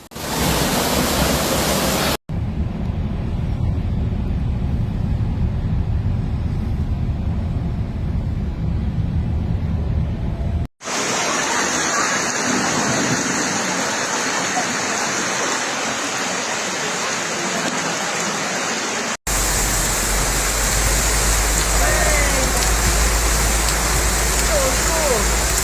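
Heavy rushing flash-flood water and rain in Portoferraio on Elba, a dense, continuous broadband roar heard in several abrupt cuts of differing loudness, with voices faintly present.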